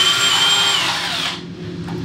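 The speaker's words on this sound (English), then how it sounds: "I can just take the escutcheon screws, get these guys out of here." A power drill spins out the escutcheon screws on a shower valve during a tile shower removal, a close, loud whining motor that winds down and stops about two-thirds through.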